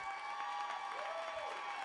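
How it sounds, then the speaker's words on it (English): A live audience at FF10 Live 2019 gives a brief round of applause, a steady soft wash of clapping under a sustained tone. "Big round of applause."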